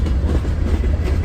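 A freight train with distributed-power locomotives rolling past close by, a loud continuous low rumble with wheel clatter on the rails.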